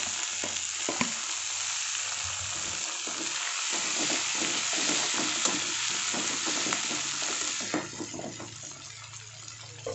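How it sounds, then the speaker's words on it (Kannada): Tomatoes fry in hot oil in a pan for tomato rasam, a loud continuous sizzle broken by repeated scraping strokes of stirring, close up with no talk. "ಇವಾಗ ಇದು ಸ್ವಲ್ಪ ಫ್ರೈ ಆಗಲಿ. ಇವಾಗ ಟೊಮ್ಯಾಟೊ ಹಾಕ್ಕೊಳ್ಳೋಣ."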